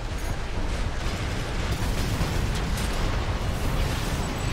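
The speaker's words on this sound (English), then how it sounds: "Big melee hit." A mech's heavy melee strike in Armored Core 6 PvP, a dense, sustained roaring impact with broad rumbling noise filling the whole moment.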